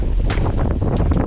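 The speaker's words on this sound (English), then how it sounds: "Wow, that's windy." Gusty wind beside a river during a bream fishing outing, buffeting the microphone in loud rough bursts with a low rumble and a few sharper swishes.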